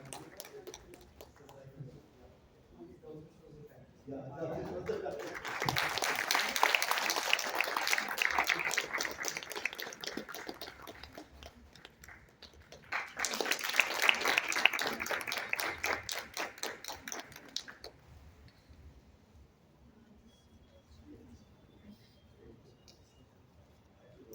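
Two bursts of audience applause, a crowd clapping steadily for several seconds each, separated by a brief lull, then fading to quiet room noise.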